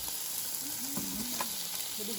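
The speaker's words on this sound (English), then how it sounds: "Pork chops with chimichurri sauce on one grill," Pork chops with chimichurri sauce sizzle on a camp grill, giving a steady close hiss of frying with a few faint tonal squeaks and no talk.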